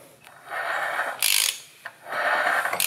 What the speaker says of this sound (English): you can hear the starter sprag assembly